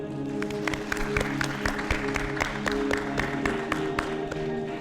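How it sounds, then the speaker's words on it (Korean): Audience at a church-run preaching competition show applauding, a steady patter of clapping that runs throughout over a low background hum. "우리 한 번 더 박수로 격려하겠습니다"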